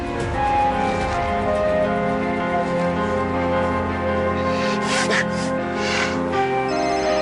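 A telephone rings repeatedly over a background of music and sounds, with a short gasp-like breath partway through.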